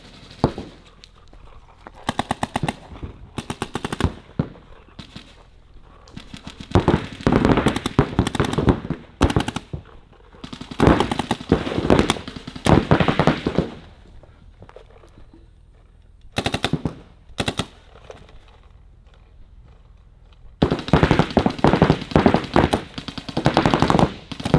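Paintball guns firing during a shootout training game, with rapid bursts of sharp pops in clusters separated by short pauses, fairly close and loud, with no talk.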